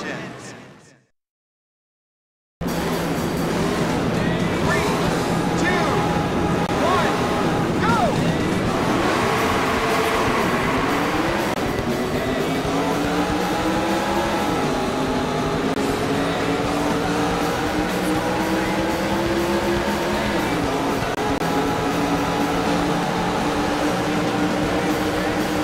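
Race car engines in the Daytona USA arcade game on Dreamcast drone loudly and continuously after a brief silence, pitch sweeping up and down as the cars accelerate together, with a voice heard early on.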